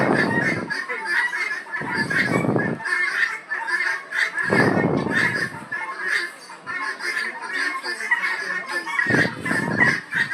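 Loud, raucous squawking and calling from several parrots, including Amazon parrots, at Bannerghatta Biological Park, continuous and overlapping, with a few low rumbling bursts underneath.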